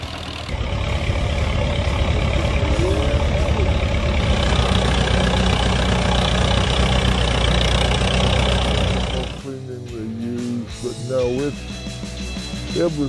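A Minneapolis Moline Z tractor's 4-cylinder, 3.4-liter gasoline engine idles in a steady, loud low rumble for about nine seconds before the sound cuts to quieter, different noises.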